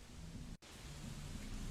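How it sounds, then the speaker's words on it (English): Heavy rain pours steadily with a deep rumble of thunder beneath it in a video game scene, loud and continuous apart from one brief dropout early on. "Why would I get out of my car in the rain?"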